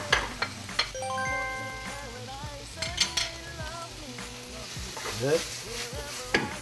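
Peppers and onions stir-fried with oyster sauce in a wok, close sizzling with repeated scraping and tossing clatters, under someone talking.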